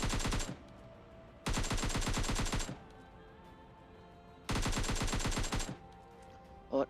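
Gunfire in the PUBG Mobile Lite video game: three loud bursts of rapid automatic fire, each lasting about a second, separated by quieter game ambience, with a brief sharp shot at the very end.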